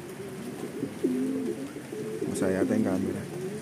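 Birds cooing softly outdoors in Pozorrubio, Pangasinan, their low, repeated calls rising and falling beneath a voice talking throughout.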